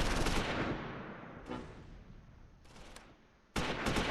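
Battle gunfire from the Close Combat IV war game during a tank engagement, heard as loud bursts of shots with a rumbling barrage at the start and a strong renewed burst near the end.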